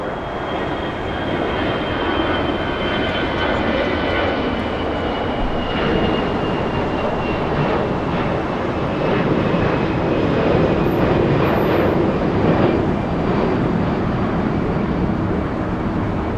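Steady, broad jet roar from an Airbus A320 departing Los Angeles International Airport for Portland, Oregon, a continuous rushing drone with a faint high whine, fairly distant and without talk.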